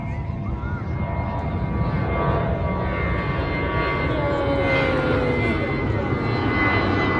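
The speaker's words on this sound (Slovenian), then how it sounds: "Another plane." A fixed-wing airplane flies overhead near an airport in Mahebourg, Mauritius, its engine drone a loud, steady roar that fills the whole stretch with a slowly shifting pitch.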